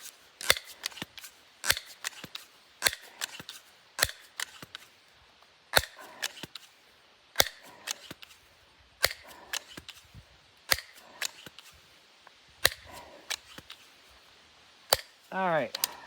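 A Crosman 1377 air pistol is pumped ten times and fired, giving a run of sharp, close clicks and snaps at uneven intervals, with a short whistling sweep near the end.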